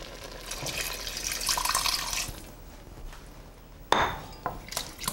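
Water splashes and streams steadily into a pot of curried goat with chicken broth for a couple of seconds, then stops, followed by a sharp metallic clink and a few quieter knocks.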